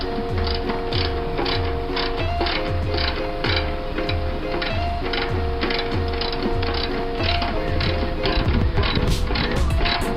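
Socket ratchet loosening the bolts on a wood chipper, a steady run of rapid pawl clicks repeating in regular strokes for the whole stretch, close and loud with some metallic clatter near the end.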